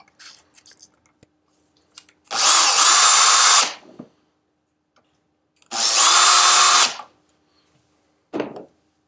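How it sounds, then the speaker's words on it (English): Two loud bursts of a power drill whining through material, drilling two new holes in a Terrova 12V trolling motor to fit a GPS autopilot, each about a second and a half long, followed by a short final burst. "I'm going to drill out the two new holes as indicated here and here"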